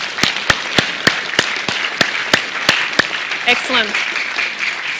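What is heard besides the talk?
audience applause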